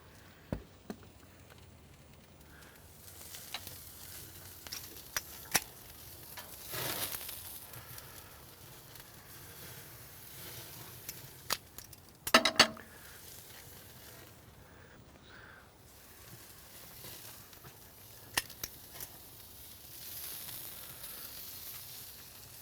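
A steak searing on a hot grill gives a steady low sizzle and hiss, broken by occasional sharp clicks and a brief louder burst midway.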